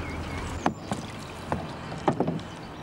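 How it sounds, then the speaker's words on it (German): Fishermen empty a net into a zinc tub standing in their boat on the Moselle: a few scattered wet knocks, thumps and splashes over soft water ambience, fairly close, no voices. "Die Fischer entleeren das Netz in eine im Boot bereitstehende Zinkwanne."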